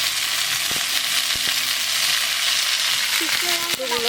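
Cumin and green chili paste sizzle loudly in hot oil during cooking of a mete alu and koi fish curry, a continuous frying hiss with a few clinks of a utensil near the end.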